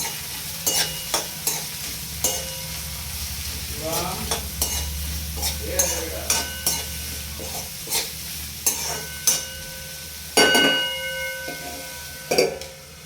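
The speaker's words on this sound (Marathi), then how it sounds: "आता बारीक कापलेले जे आपले कंटुरले आहेत ते मी ह्या कढईत घालून घेत आहे आणि मस्त असं त्याला त्या तुपात परतून घेणार आहोत" Chopped spiny gourd (kantola) sautés in ghee in a kadai, a steady soft sizzle beneath repeated sharp clinks and scrapes of a spatula stirring against the metal pan, close and fairly quiet, with no talking.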